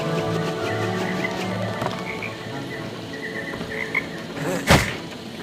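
Frog croaks from a video game, soft repeated calls over a busy bed of ambient game sounds and insect-like chatter, with one sharp louder burst near the end.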